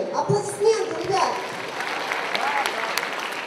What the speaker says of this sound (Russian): Аплодисменты, ребят!